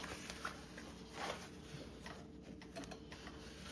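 A sewing machine runs a tacking stitch while attaching a lining for a Pandora Charisma garment, giving a steady, fairly quiet mechanical whirr with fast repeating needle ticks and no talking.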